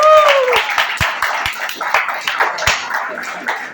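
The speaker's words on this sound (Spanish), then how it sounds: "primero un aplauso para todos ustedes por sus exposiciones" Students in a classroom give scattered, uneven hand claps after their presentations. The sharp claps are spaced out rather than forming a full roar, and a few voices are heard among them.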